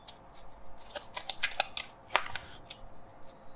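Tarot cards being shuffled by hand, a quick series of crisp riffling snaps and flicks, close and fairly quiet with no talking.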